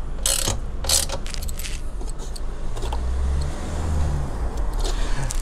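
Ratchet clicking as bolts are loosened on the bash plate of a KTM 890 Adventure R motorcycle, with a couple of sharp close bursts of ratcheting over a steady low background hum.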